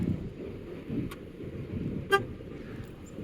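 A car locks with its key fob and gives a single short horn chirp over faint background traffic and road noise.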